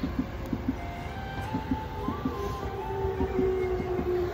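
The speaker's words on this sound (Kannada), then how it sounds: "ಟ್ರೈನ್ ನೋಡಿ, ಇಲ್ಲೇ ಟ್ರೈನ್ ಹೋಗ್ತಾ ಇದೆ." A train rolls past near rice paddies beside a station in rural Japan, its wheels clacking in a steady rhythm over the rails with a faint squeal above, loud and close throughout, no voices.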